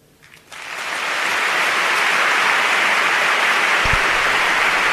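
Sustained ovation from the audience at the Semana Santa proclamation in Seville, a dense, loud wall of clapping that swells up within the first second from a quiet hall and holds steady throughout.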